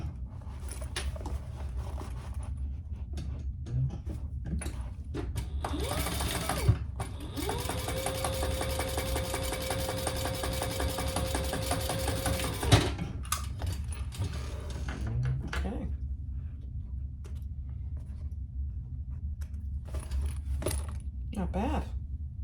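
A sewing machine stitches through waxed canvas close up, with short starts giving way to a long steady whirring run before it stops, while a voice talks quietly in the background.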